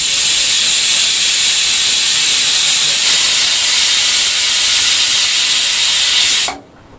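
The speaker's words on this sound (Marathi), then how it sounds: "कुकरच्या आता मी 2 शिट्ट्या घेणार आहे" A pressure cooker on a gas stove steadily releasing a loud, continuous hiss of steam close by, holding even for several seconds before cutting off abruptly.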